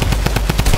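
Rapid, loud automatic gunfire from a Fortnite battle match, a dense string of close shots repeating steadily with no talk over it.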